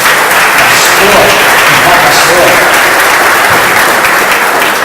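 A church congregation breaks into loud, dense applause that fills the space continuously and without letup; a voice is briefly heard over the clapping.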